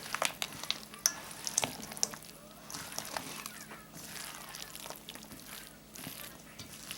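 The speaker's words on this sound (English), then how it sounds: "I'm just going to mix this all together." Turkey pot pie filling is mixed together by hand in a bowl, with irregular clicks, taps and wet scraping from a utensil, fairly close and moderately loud, with no talking.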